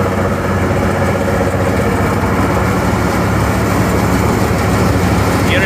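A Super 69D seed separating machine runs steadily, giving off a constant mechanical hum and drone with a low tonal rumble, loud and unbroken with no talk over it.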